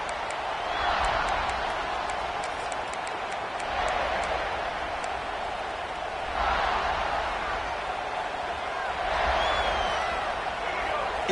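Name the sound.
football stadium crowd cheering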